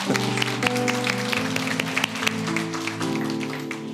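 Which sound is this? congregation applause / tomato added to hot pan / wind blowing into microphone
congregation applause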